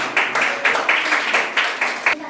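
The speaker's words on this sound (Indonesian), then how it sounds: "Oke, tepuk tangan dulu, tepuk tangan." Children clapping hands together in a classroom, a brisk rhythmic burst of several quick claps, loud and close.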